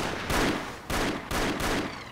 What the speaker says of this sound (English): Whoa, gunfire.